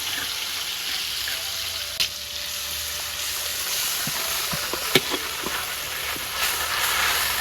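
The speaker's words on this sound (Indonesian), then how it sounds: "Bumbunya digoreng." Spice paste frying in a pan for a spicy stir-fry of young papaya with fried sea fish, a steady broadband hiss with a few faint clicks and taps from utensils, fairly quiet and unbroken, no talking.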